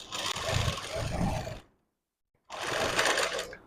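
Sewing machine stitching around a blouse neckline, a steady loud whirring run that stops for about a second, then starts again.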